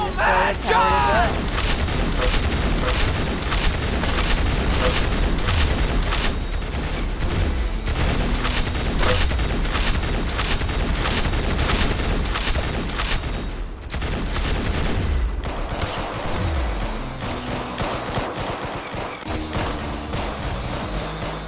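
Dense gunfire from the Avenger weapon in the shooter game Arsenal, loud rapid shots and booms running almost continuously under in-game music and effects, with a player talking over it.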